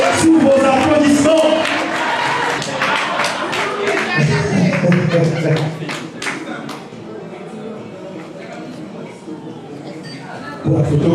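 An audience at a gala award ceremony claps loudly, with a dense patter of applause that thins out gradually and picks up again briefly at the end.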